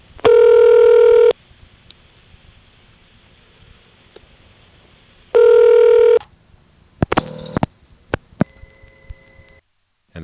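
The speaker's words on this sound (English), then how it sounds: "the last 5 digits get dialed right into it" Telephone digits dialed through a T-carrier trunk into an electronic switching system, heard as two long steady tones separated by quiet, then a burst of quick clicks and short pulses.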